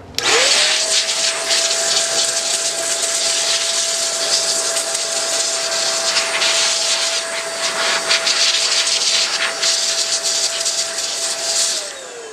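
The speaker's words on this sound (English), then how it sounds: "what I like to do is take a blower, a little hand blower here," A small hand blower blasts air over 78 RPM records to clear dust, a loud steady whirring hiss with a constant motor whine that starts abruptly and winds down at the end.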